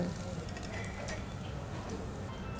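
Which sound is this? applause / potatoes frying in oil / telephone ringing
potatoes frying in oil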